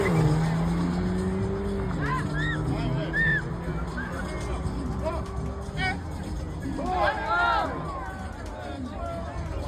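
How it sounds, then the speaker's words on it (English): Omoda C9 SUV drag racing an Audi S3 at a drag strip, with steady engine roar and rising tones across the run, a crowd cheering and chattering loudly over it. "I personally drag raced and beat an Audi S3 on the drag strip."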